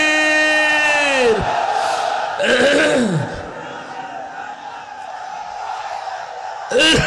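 A large crowd at an outdoor Islamic religious gathering roars back in unison to a call of takbir, two loud chanted responses swelling and falling, with a preacher's amplified voice between them and a third shout starting at the end.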